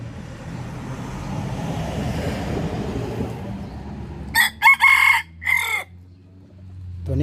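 A Thai white-eared game rooster crows several times in close, loud bursts near the end, after a stretch of steady low background rumble that sounds like distant traffic.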